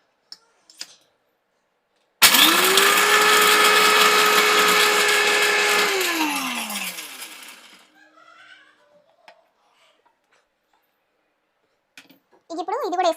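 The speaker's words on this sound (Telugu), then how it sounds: "ఇప్పుడు మిక్సీ పట్టుకుందాం" A mixer grinder whirs loudly for about five seconds while grinding peanuts, sesame and green chillies, its pitch steady, then winding down and falling away, with faint clicks and brief speech before and after.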